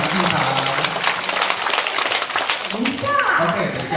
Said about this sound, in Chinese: 掌声欢迎丰原国中合唱团进场。